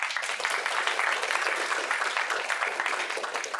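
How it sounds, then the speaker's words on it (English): A crowd at a students' union annual members' meeting breaks into steady applause, dense clapping that fills the room at an even level for a few seconds. "So maybe we should do a round of applause to everyone that I've just mentioned and for Nick towards the camera as well."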